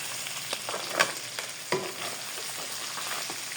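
Crab pieces sizzle and fry in a pan, stirred with a few sharp scraping clacks of the utensil against the pan, over a steady broadband hiss with no talking.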